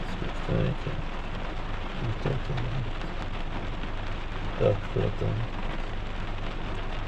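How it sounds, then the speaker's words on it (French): Heavy downpour during a thunderstorm at Saint-Anicet on the water's edge, a steady broadband wash of rain with occasional louder bursts, while people talk intermittently over it. "Hop, on est dans le déluge"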